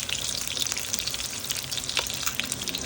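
Salmon fries in its own rendered fat with a steady, close crackle and gentle popping throughout.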